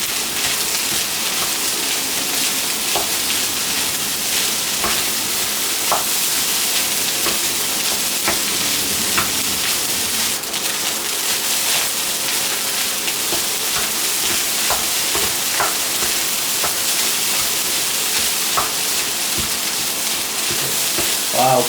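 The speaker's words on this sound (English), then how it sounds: "Just give this a good stir fry into the rice." Steak fried rice with carrots being stir-fried in a wok, a continuous crackling sizzle with scattered sharp pops and scraping stirs, steady and close with no talking.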